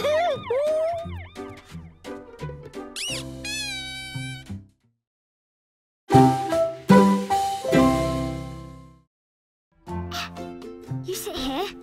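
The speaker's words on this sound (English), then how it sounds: "It's got a siren." Toy vehicle siren wailing in short, loud, close bursts with rising and falling tones, separated by brief silences.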